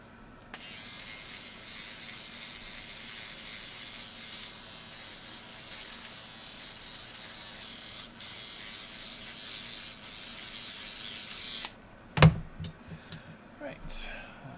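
A brush sweeps dust off the felt pad inside a CUH-1001A PlayStation 4 console, a steady soft bristly hiss lasting about eleven seconds, followed by a few sharp clicks and knocks of handling the parts.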